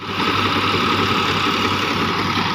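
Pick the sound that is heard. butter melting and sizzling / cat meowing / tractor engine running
tractor engine running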